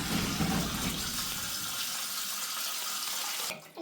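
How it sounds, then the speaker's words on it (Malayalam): Water runs from a tap while sardines are washed in a kitchen, a steady close splashing stream that stops abruptly near the end. "ശരണ്യ മത്തി കഴുകിക്കൊണ്ടിരിക്കണം അല്ലേ ശരണ്യ?"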